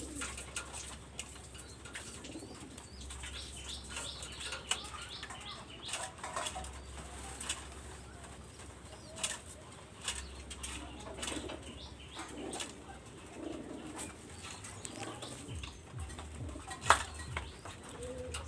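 Pair of Kamagar pigeons cooing and flapping their wings, close by, with repeated wingbeat bursts and low coos scattered through the clip and no talk over them.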